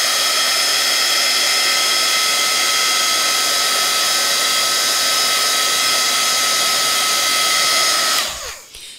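A heat tool blowing hot air over FriXion pen ink roars loud and steady for about eight seconds, then winds down and cuts off near the end.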